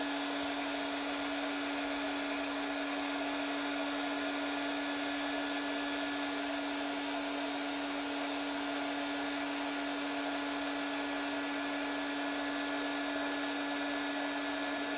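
A Makita 40V heat gun runs continuously, a steady airy blowing roar with a constant motor whine held evenly from start to finish, with no speech.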